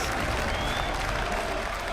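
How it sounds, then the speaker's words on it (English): Crowd at a League of Legends World Championship 2015 match, Fnatic versus Invictus Gaming, cheering and applauding loudly in a dense, steady roar that fills the whole moment. "The crowd go wild."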